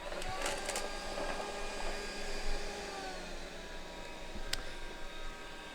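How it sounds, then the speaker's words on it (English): Faint, steady whirring hiss of a fume extractor fan running at a soldering bench during an N64 PixelFX install, constant throughout with a couple of light clicks and handling noises. "let me turn on my iron and my fume extractor"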